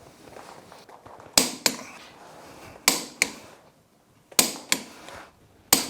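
A torque wrench set to 120 foot-pounds tightens the wheel nuts on a 2016 Polaris Ranger 900XP, giving sharp, close metallic clicks in quick pairs and triples, separated by quiet gaps.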